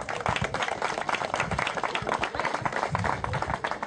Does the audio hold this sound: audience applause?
yes